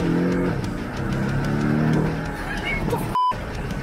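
A 2018 Porsche 718 Cayman pushed toward losing grip, its engine droning steadily up close with a brief tire squeal, a short dropout near the end.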